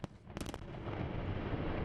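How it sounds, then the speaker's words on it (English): Controlled blasting at a Ukrainian mine: a few sharp, heavy blast reports land in rapid succession, followed by a long rumbling roar of debris and echo, heard from a distance. "Controlled explosions at Ukrainian mines like these could be key to the country's survival."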